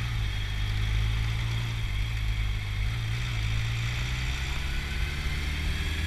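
A pedal scooter-motorbike hybrid idles with a steady, continuous low engine drone, loud and close, unchanging throughout with no speech.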